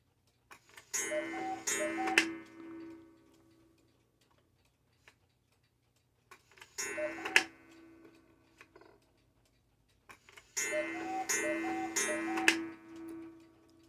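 Vintage 1980s Regula mechanical West German Black Forest cuckoo clock, 30-hour movement, ticking in three bursts of clattering, chiming mechanical activity with quiet gaps between them, close and clear, no talk.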